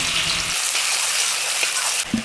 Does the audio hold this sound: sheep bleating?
no